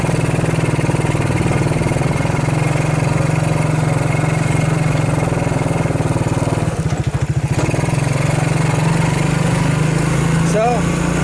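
A Suzuki KingQuad 300 ATV engine runs steadily with a whining gear noise, loud and close throughout, with a brief rougher patch partway through.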